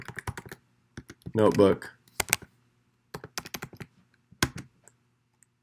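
Quick keystrokes clatter on a computer keyboard in short bursts as a command is typed into a terminal, with a brief spoken word cutting in between the clicks.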